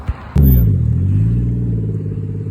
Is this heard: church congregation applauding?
no